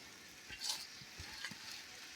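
Pulao rice being fried on a clay stove in a village kitchen gives a faint, steady sizzle with a few soft stirring scrapes, heard alone at low level.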